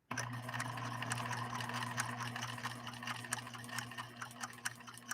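A PFAFF 1222E sewing machine stitches fabric with a steady, close motor hum and fast needle chatter that runs without a break. No one speaks.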